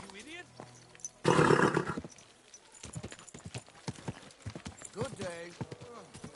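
Horse in the medieval game Kingdom Come Deliverance 2: a loud, close burst of hoofbeats and a whinny, with characters' voices talking before and after.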